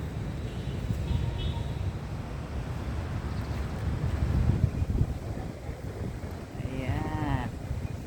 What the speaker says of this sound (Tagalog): Mahangin dito. Presko. Preskong presko. Sarap ng hangin.